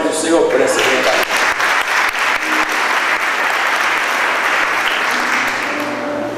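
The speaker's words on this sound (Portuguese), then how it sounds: "Você pode aplaudir o Senhor por essa verdade" A church congregation applauds during a Sunday service, steady dense clapping throughout with a raised voice or two near the start.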